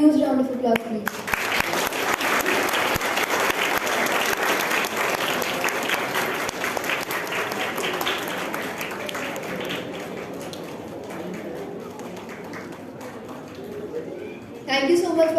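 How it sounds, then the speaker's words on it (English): An audience applauds at an International Moon Day celebration. Dense, sustained clapping fills most of the stretch and slowly thins out, and a voice comes in briefly at the very start and again at the end. "Can we have a huge round of applause"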